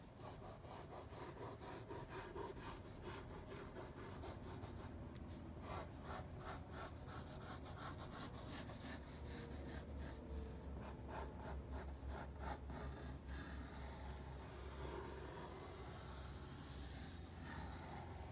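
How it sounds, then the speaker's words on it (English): A pencil sketches a bunny's head on paper, making quiet, close, continuous scratchy rubbing strokes in a steady rhythm with no voices. "You're going to take your pencil and you're going to start by drawing the bunny's head."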